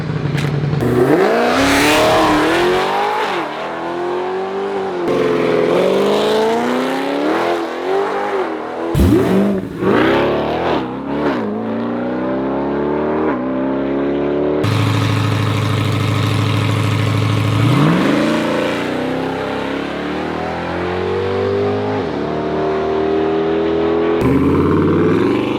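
A car makes its first pass down a drag-style race track, engine revving hard through repeated rising gear sweeps, loud and close, with brief drops between shifts and a sustained roar toward the end.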